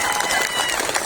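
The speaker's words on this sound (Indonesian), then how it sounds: "Tepuk tangan untuk fraksi Partai Demokrat" Audience applause in a parliamentary setting for the Democratic Party faction, a brief burst of dense crowd clapping with some voices mixed in.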